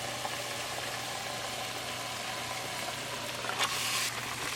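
Beef sizzles in a pan with cooked tomato for a creamy beef curry, a steady broadband frying hiss over a low hum, with a brief stirring scrape near the end.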